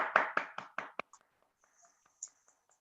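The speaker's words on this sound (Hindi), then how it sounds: "रेशु जी और रेखा जी के लिए एक बार जोरदार ताली।" Applause in an online webinar: about half a dozen quick, crisp hand claps in a steady run, then a faint patter of scattered claps fading into near silence.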